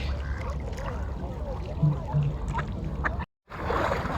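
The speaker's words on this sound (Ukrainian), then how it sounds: "Купаються вовсю, які красиві качечки." Ducks on open water at an Epiphany (Vodokhreshche) gathering in Kyiv's Hydropark, with a few short quacks over a steady outdoor wash of crowd noise and speech, and a brief dropout near the end.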